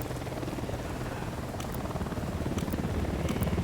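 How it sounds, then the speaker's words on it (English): Helicopter flying overhead in the video game Ghost Recon Wildlands, a steady rotor drone that holds fairly loud and constant throughout, with faint high ticks layered on top. "Helicopter, get down."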